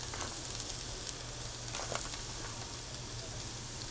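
Spam stir fry sizzles steadily on a Blackstone griddle as it is mixed, a dense close frying hiss with faint scraping clicks throughout and no talking.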